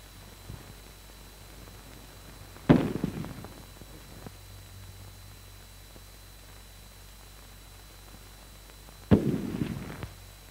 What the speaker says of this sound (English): Those bursts from his Bren guns scattered what was left of them